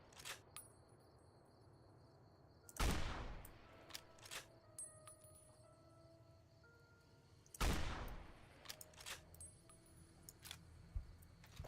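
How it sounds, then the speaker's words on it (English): Anti-materiel rifle fire in Fallout New Vegas: two sharp, heavy booming shots several seconds apart, each trailing off, among faint clicks and game sounds. "I'm being shot with an anti-material rifle"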